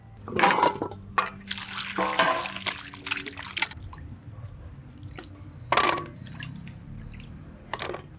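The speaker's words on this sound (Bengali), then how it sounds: "এবার পরিষ্কার করে ধুয়ে নেব একদম খলবলো করে ধুতে হবে" Freshly dug new potatoes are swished and rubbed in a basin of water, giving close splashing, sloshing and dripping in uneven bursts.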